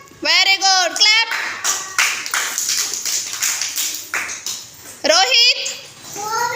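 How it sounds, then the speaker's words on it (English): Several children clap in a classroom, a dense patter of claps lasting a few seconds between stretches of an adult speaking near the start and near the end. "Very good. Clap."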